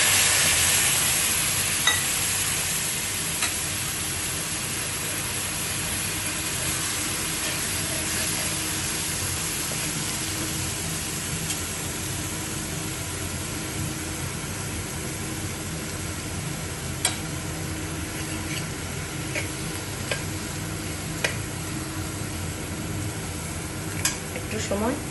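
Spiced potatoes and paneer fry in a pan with cumin, turmeric and salt, giving a steady close sizzle that runs throughout, with occasional light clicks from stirring.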